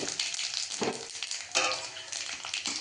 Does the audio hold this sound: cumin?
yes